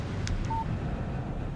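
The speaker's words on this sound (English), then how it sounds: "Text message from Barry" A short phone text message alert from the video game Alan Wake sounds once: a brief tone over a steady low background hum, with no talking.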